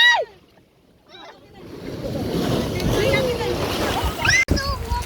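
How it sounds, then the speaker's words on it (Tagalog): Strong sea waves surge and splash in at a beach in Mindoro, a rushing wash of water building up close and loud, with people talking and exclaiming over it. "Grabe yung alon, guys."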